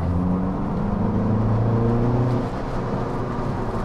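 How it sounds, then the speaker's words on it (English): A Mini Cooper S Convertible Sidewalk Edition in sport mode, its engine and exhaust revving steadily and loudly from inside the car, with a rising and falling hum and no talking. "when you pop it into sport mode, you do notice the exhaust gets a bit louder and that engine is just off the leash a bit more"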